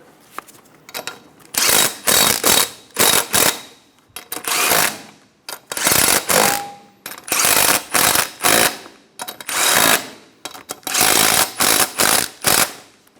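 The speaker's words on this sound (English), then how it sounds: "Put on your 6 lug nuts, snug them down in a star pattern." Six lug nuts on a 2000-2006 Toyota Tundra front wheel are tightened with a ratchet in loud, close bursts of rapid clicking, with short pauses between each burst.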